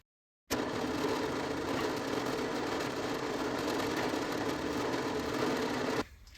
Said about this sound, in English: we can actually begin some machining